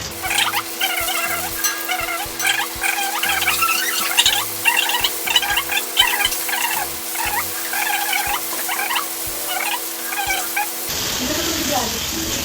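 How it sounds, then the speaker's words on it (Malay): Korean fried chicken frying in oil gives off a soft patter of crackles and sizzles under a steady background hum, while people chat nearby. "Kita akan goreng ayam. Kita goreng ayam."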